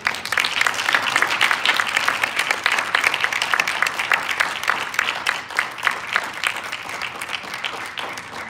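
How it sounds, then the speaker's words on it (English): Audience applauding at an academic conference session on women's binder's volumes, a dense sustained clapping that holds steady for the whole stretch, close and fairly loud, with no voices over it. "I think a round of applause for our entire."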